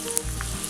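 A hot tempering of mustard seeds, sliced shallots, dry chili and curry leaves hits a chicken curry with one brief, loud burst of sizzle and spatter, close up, no talking.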